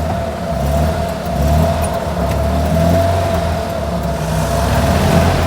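A small Fiat 500 engine idles smoothly nearby with a steady, even hum and a faint whine, no one speaking.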